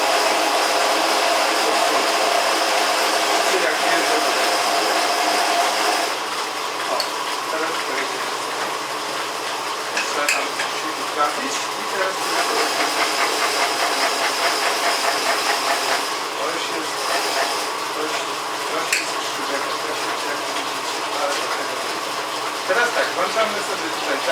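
Steady, loud mechanical whine and hiss of an ALG 200 milling machine running its head down and then up, continuous throughout with a slight shift in tone partway, and someone talking over it.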